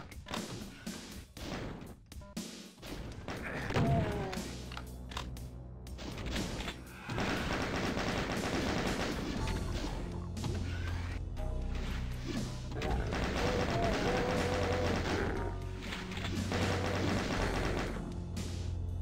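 Doom gameplay on Ultra Violence with fast monsters: a chaingunner fires rapid bursts amid heavy crashes, booms and thuds, loud and continuous across the stretch, layered with other combat noise and no talking.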